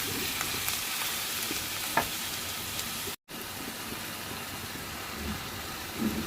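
Tomato with salt and pre-boiled potatoes cooks down in a pan for aloo sagu, a steady close sizzle with faint stirring that drops out for a moment in the middle, with no one talking.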